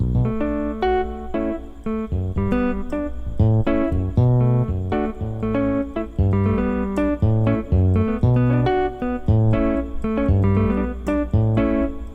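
A keyboard's left hand plays a rhythmic, bouncing bass line in the low register for a praise song, with chords layered above it, steady and alone without voices.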